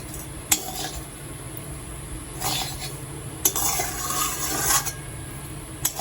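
Capsicum pulao with butter is stirred gently in a pan, with soft scraping and clinking strokes in several brief bursts over a low, steady sizzle.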